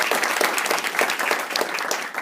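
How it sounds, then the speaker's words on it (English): An audience claps steadily and densely at a Cherry Blossom running event gathering, the applause sounding close and full for a couple of seconds with no voices over it. "So round of applause."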